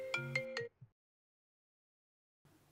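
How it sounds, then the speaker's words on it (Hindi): A mobile phone ringtone plays three quick bright tonal bursts, then cuts off into silence before faint background noise returns. "अरे इसका फोन आ गया"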